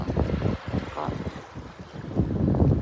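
Gusty wind by the sea buffets the microphone in uneven, muffled rushes that rise and fall over a low, steady roar.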